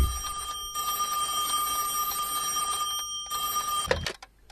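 Telephone ringing in a Bengali cartoon, a continuous electronic ring tone for about four seconds with brief gaps, then cut off abruptly.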